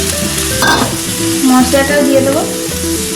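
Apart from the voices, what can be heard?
chicken meat frying in a pan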